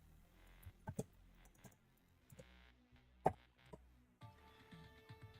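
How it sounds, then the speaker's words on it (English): Typing on a computer keyboard while editing code, with irregular quiet clicks and a few sharper key strikes, close and alone with no talk. "I hope I'm typing this all correctly"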